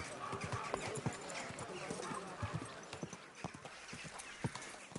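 Horse hooves clip-clop at a steady walking rhythm in the medieval game Kingdom Come Deliverance 2, close and clear, with a brief whinny and a voice speaking softly over the hoofbeats.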